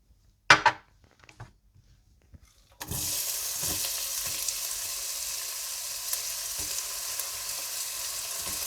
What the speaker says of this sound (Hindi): तेल गरम करें और इसमें प्याज डालकर हल्का सा फ्राई कर लें